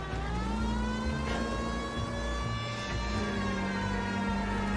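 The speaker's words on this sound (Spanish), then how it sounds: "Ir con las sirenas a la casa del supuesto asesino." Police car siren in the video game L.A. Noire: a steady, sustained siren wail with a strong engine drone beneath it, continuous and fairly loud, with no talking.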